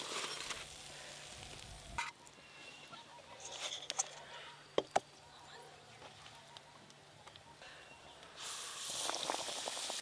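Potato chops (aloor chop) fry in hot oil as a soft, steady bubbling sizzle, broken by a few sharp clatters and a louder burst of sizzling near the end, with faint voices in the background.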